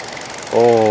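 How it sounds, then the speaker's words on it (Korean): A Hyundai Avante with a 1.6 engine idles after a facelift: a low, steady hum starts partway through and holds smoothly, fairly loud and close, after a brief quiet stretch. "약간 이게 현대차 엔진의 특징적인 사운드라고 할 수 있죠."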